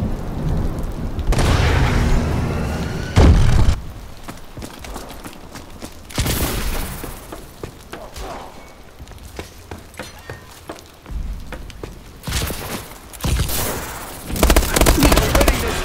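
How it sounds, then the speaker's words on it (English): Heavy missile-strike explosions in Call of Duty Advanced Warfare multiplayer on the Patriot DLC map, a series of loud booming blasts with rumbling tails separated by quieter battle noise. "Friendly missile strikes inbound."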